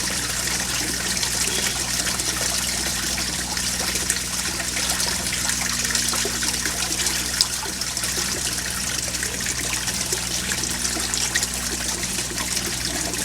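Water trickles steadily from a pump into a catfish setup, a constant close splashing flow over a low steady mechanical hum, with no talking.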